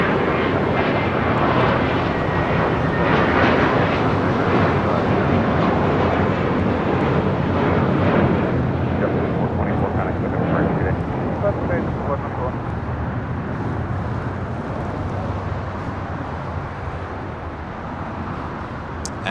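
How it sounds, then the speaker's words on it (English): A JetBlue Airbus A321 takes off from runway 25 right at LAX, a loud, sustained jet roar that fills the whole stretch and slowly eases as it climbs away. "Flight heading to JFK, flight 424 with JetBlue, A321. Next takeoff on 25 right."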